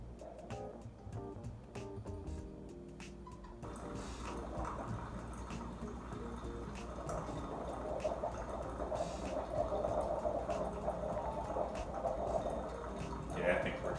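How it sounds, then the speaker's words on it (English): A coffee maker drips freshly heated water through into the pot, a soft steady trickle and faint gurgle running continuously under low background noise. "some of that water has gotten hot enough to start dripping through already"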